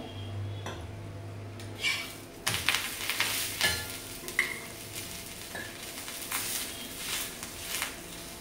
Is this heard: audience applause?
no